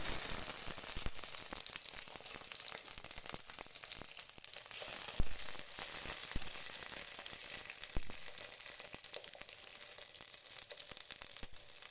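Steady, hissing sizzle of capsicum frying in hot ghee, with occasional sharp crackles and pops rising above the constant spatter.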